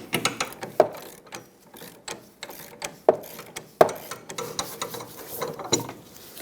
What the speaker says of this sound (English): Using an inner tie rod tool, we're going to remove the inner tie rod from the rack.